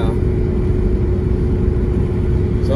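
Steady, loud car engine drone and road rumble from inside a vehicle cruising on a highway in the early morning, continuous throughout with no talking.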